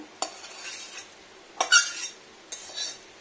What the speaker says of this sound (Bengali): এবার আমি এটাকে ট্রান্সফার করে নেবো একটা বাটিতে।